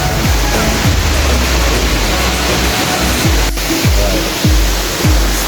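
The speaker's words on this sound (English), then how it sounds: "Oh, welcome to the waterfall." Waterfall at Capua near Yura, Arequipa, Peru: a loud, steady broadband roar of falling water fills the whole stretch, with a few low thumps from handling.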